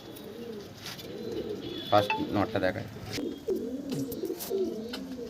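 Kalanka pigeons in a home loft, a pair, coo in low repeated rumbling phrases through most of the stretch, close by, with someone talking briefly over them.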